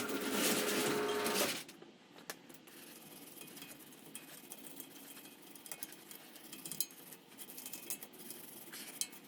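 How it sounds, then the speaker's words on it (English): A brush scrubs brake dust off the brake parts of a 2015 Mercedes CLA 250 4Matic, starting with a loud burst of bristle scraping, then quieter scattered scratches and taps close by, with no talking. "As you can see, there's a lot of dust that comes up from brushing this."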